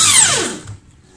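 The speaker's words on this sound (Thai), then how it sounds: "ไขควงนะครับ" A screwdriver adjusts the screw of a cabinet cup hinge on a wardrobe door, giving one short, close motor whine that drops in pitch as it winds down, then near silence.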